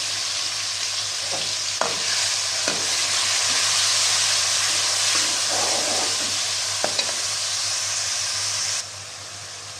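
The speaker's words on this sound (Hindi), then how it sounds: "प्याज को तकरीबन मैंने लाइट ब्राउन कर लिया है" Steady loud sizzling of onion paste frying in oil, with occasional stirring clicks and scrapes, close by and continuous until it quiets near the end.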